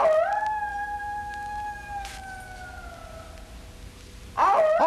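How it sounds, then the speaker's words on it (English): A single long, wavering wolf howl holds steady and then slowly trails off, fairly loud and alone, before a burst of higher, rougher sound cuts in at the end. "Sounds like a wolf."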